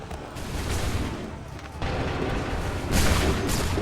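Musket volleys in the video game Assassin's Creed III, loud booming rolls of massed gunfire with heavy surges at intervals, thick with rumbling noise throughout.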